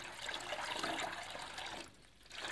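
A pet Western Australian magpie splashes in its bath water, a continuous close wet splashing and sloshing that briefly dips quieter before picking up again.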